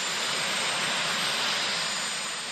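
Aircraft landing at Stansted Airport in England, a steady broadband jet engine roar that stays loud and even throughout with no voices.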